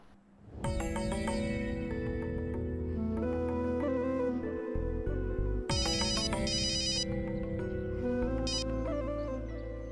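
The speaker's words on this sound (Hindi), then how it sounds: "प्लीज फोन उठाओ" A phone's melodic electronic ringtone plays continuously, a repeating bright tune with a steady bass beat, loud and close, no voices.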